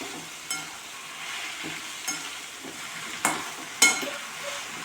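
Stirring of wild monsoon leafy greens in a small wok over a soft, steady sizzle, with a few sharp scraping knocks spaced irregularly through the clip.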